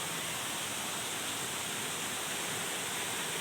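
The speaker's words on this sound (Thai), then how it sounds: "จะเป็นลานหินแล้วก็เป็นน้ำตกเล็กๆนะครับ" Broadband rushing of a small waterfall spilling over a rocky stone terrace on a mountain trail at Khao Sip Ha Chan, Chanthaburi, steady and close with no talking.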